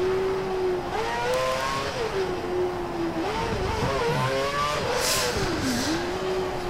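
Race car engine in an F1-style racing video game, Korea circuit, revving and accelerating with rising and falling pitch through gear shifts, loud and continuous with no talk.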